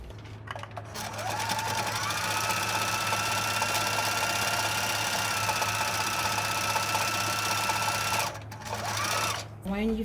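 A sewing machine stitches through a towel, its motor running in a steady, close, fast mechanical whir for several seconds before stopping and briefly starting again.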